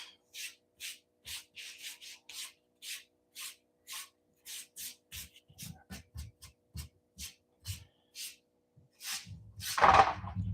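Eraser rubbing on paper at a desk, a close series of short scratchy strokes in quick irregular bursts, followed by a louder brushing sweep at the end.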